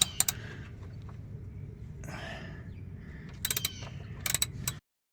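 Metal wrench clicks and clanks loosening the oil drain plug on a 2006 Ford Explorer with a 4.6L engine, a few sharp close ratcheting bursts over a low steady rumble, quiet between them.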